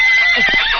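Horse neighing, a short, loud whinny heard close by that rises and wavers in pitch over less than a second.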